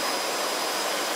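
A Jet Provost JP5 jet trainer in flight, its engine a steady, loud, unbroken roar with a faint whine running through it.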